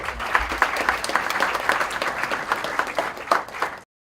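Audience applause for a panel speaker at a discussion event, a dense steady wash of many hands clapping that runs at even loudness for nearly four seconds and then cuts off abruptly into silence.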